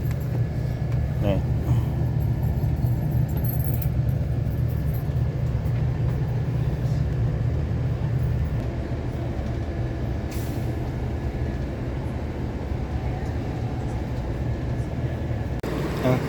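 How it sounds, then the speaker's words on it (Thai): A VIP coach bus pulling out of the Nan provincial bus terminal, heard from inside the cabin as a steady, loud low engine drone with a few faint clicks and hisses. "ณตอนนี้ก็คือรถกำลังเคลื่อนออกจากสถานี บขส"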